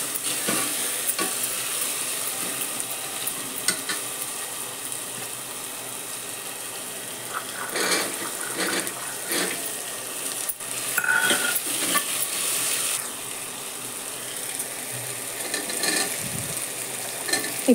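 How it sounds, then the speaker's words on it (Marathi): Carrot, beetroot and other vegetables sizzle and sauté in a pot while being stirred, with a steady frying hiss broken by repeated scraping and clanking strokes of the spoon against the metal. "परतू देते चांगलं हे मी."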